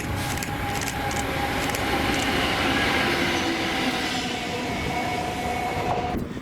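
A rail freight train bound for Grangemouth rumbles past near Cumbernauld, a loud, continuous roar of wagons on the track with faint wheel squeal and rhythmic clatter, heard close and steady throughout.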